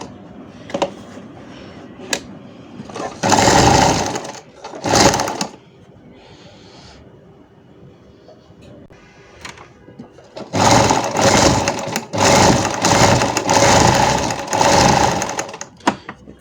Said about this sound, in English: you stop and turn just like you sew normally